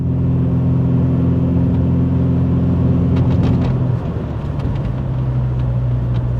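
A Rover 216 Coupe CVT climbs a hill, its steady mid-pitched engine drone and low road rumble continuous and close, with faint ticking and a slight dip in tone partway through.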